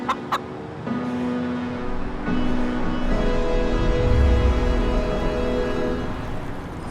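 Chickens on an acre-sized rooftop farm in Queens, New York, cluck and murmur steadily over a constant outdoor background hum, with a couple of sharp higher calls at the start.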